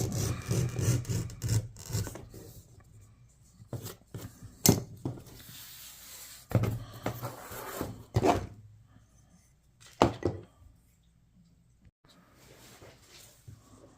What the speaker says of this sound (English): So I'll take my groover and actually go through and add the marks for that.